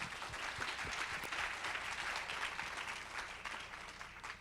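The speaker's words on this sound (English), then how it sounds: "So we can clap for that." Audience applause at a panel conversation on the disability rights movement: a dense, steady wash of many hands clapping, loud and close, sustained evenly throughout with no voices over it.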